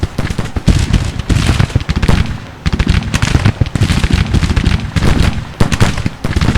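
Troops trade gunfire in a Civil War strategy game, with dense, loud, continuous crackling volleys and irregular musket shots layered over one another throughout.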